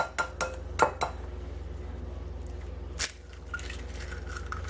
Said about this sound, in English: So step one, you're gonna want to crack your eggs.